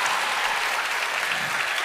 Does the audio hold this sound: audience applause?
yes